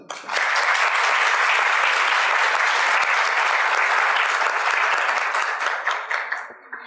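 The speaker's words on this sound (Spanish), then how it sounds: "Les pido un gran aplauso." An audience at a women-in-politics event breaks into loud, sustained applause, a dense wash of many hands clapping for about six seconds before fading out.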